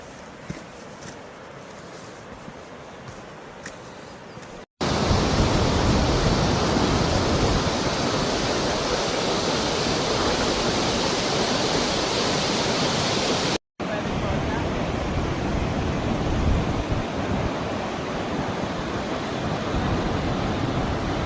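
Voringfossen, a large waterfall in Norway, roars as a dense continuous rush that swells much louder through the middle stretch after a quieter opening, with two brief cut-outs and no talk.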